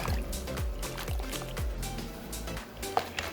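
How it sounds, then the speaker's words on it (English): Brunswick stew ingredients stirred together in a pot with added liquid, producing close wet sloshing and squelching with soft rhythmic swirls and a couple of light clinks near the end. "Okay, let's stir this all up."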